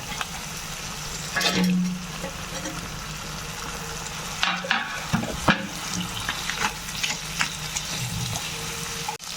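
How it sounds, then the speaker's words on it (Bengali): Fish heads sautéing in a pan with chopped tomato and green chilli for a moong dal dish, with steady sizzling and intermittent stirring and clattering strokes, and no talking. "আবার একটু কষিয়ে নেব টমেটো কুচি দিয়ে দিলাম আর কাঁচা লঙ্কা এবারে মাছগুলো দিয়ে দিলাম"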